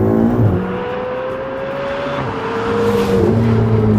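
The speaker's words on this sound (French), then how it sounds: "L'accélération, le moteur marche vraiment très très fort." A Ferrari 488 GTB's turbocharged V8 pulls hard under full acceleration, loud and close, its engine note climbing steadily through the gears with a brief dip at a shift before rising again.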